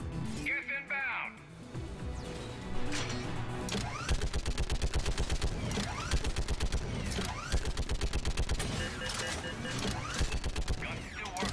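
Geth turret in the Mass Effect 3 game fires long, rapid bursts of loud automatic gunfire with mechanical clatter, while voices talk over it at times.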